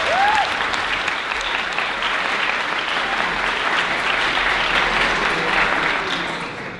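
Applause from a conference audience at INSA Toulouse greets an introductory speaker, a dense, loud and even wash of clapping that holds steady and begins to fade at the very end.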